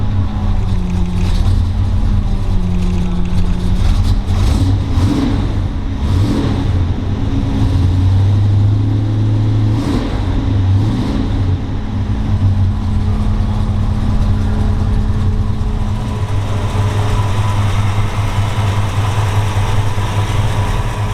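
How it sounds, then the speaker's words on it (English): A 1939 Ford Deluxe's 401 Nailhead V8 with dual quads rumbles steadily at idle after a cold start, a deep low drone with shifting revs early on, loud and close, with no voices. "We're going to do a cold start here."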